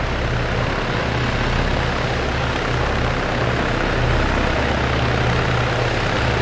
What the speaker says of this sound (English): We have another helicopter touching down now.